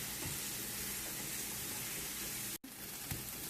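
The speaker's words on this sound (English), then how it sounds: "we're going to basically saute it all" Garlic and onion sautéing in ghee in a pan, a dense, steady hiss of frying that fills the whole clip, broken by one brief cut near the end.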